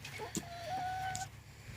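Hens cluck softly nearby in short scattered calls, with a faint thin whistle-like tone drifting through the quiet background.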